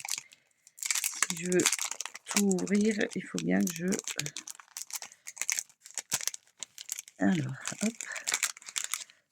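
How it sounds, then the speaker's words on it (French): Paper packaging crinkles and rustles in sharp, irregular bursts as craft supplies such as stickers are unwrapped close by, while someone talks over the noise. "Désolée pour le bruit que ça fait, hein, le papier"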